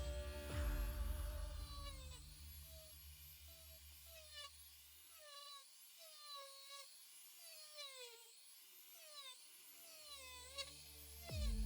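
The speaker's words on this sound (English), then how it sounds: "This was done using the sand drum on a rotary tool." A rotary tool with a sanding drum drags across foam to cut wood-grain grooves, giving a high-pitched whining drone whose pitch dips and rises in repeated passes, with low rumbling at the start and end.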